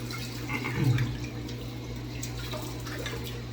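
Tap water running steadily into a sink for rinsing during a wet shave, a continuous close wash with a low fan hum underneath.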